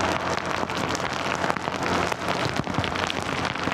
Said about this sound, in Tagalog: Ulan, pambira. Lakas.